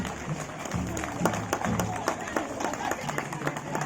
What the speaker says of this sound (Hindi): ताली बजाइए कर्तव्य होने से।